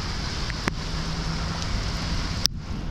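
Steady rain during a heavy storm in Sidi Bel Abbès, Algeria, a constant even hiss of falling water with a couple of faint isolated taps, continuous and moderately loud with no talk.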